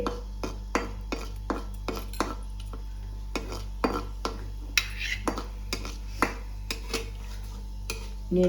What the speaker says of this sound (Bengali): পাঁচফোড়ন আর একটা শুকনো লঙ্কা টুকরো করে দিয়ে দিয়েছি। একটু নেড়ে